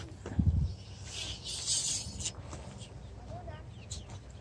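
High, thin peeping of seven-week-old chicks outdoors in a yard, scattered and fairly faint over a rustling open-air background with a brief low thump near the start.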